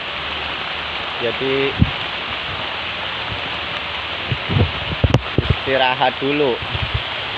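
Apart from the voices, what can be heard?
very heavy rain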